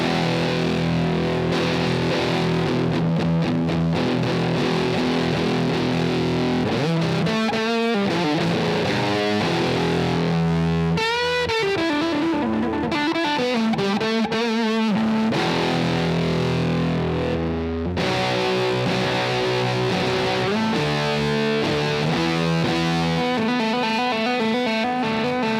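Electric guitar played through a UA OX amp simulation stomp pedal with distortion, chorus-like effects and a touch of reverb, sustained chords and melodic runs ringing loud and continuous, no voices.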